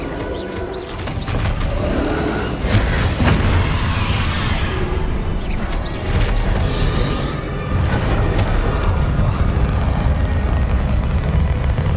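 A Bombarda blasting spell explodes during a loud Hogwarts Legacy battle against Ranrock, with deep rolling booms and rumble filling a dense, continuous din of game noise.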